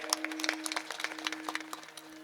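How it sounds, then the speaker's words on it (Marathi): An audience claps for the villagers at a kirtan gathering in Tangdi village: a faint, steady patter of many hands that keeps going throughout, with a low electrical hum underneath. "सर्व गावकऱ्यांसाठी एकदा तुम्ही सर्वांनी जोरदार टाळ्या वाजवा."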